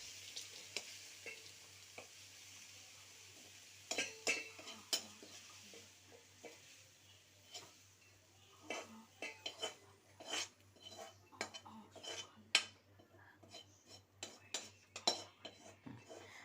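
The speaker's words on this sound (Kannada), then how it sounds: "ಈಗ ಇದನ್ನು ಒಂದು ಪಾತ್ರೆಗೆ ಹಾಕ್ತಾ ಇದ್ದಾರೆ." Jackfruit stir-fry (halasina kayi palya) is scraped and spooned from a pan into a vessel, with repeated metallic clinks and scrapes of a utensil against cookware, irregular and close, with no talking.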